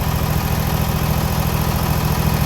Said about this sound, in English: that motor runs great.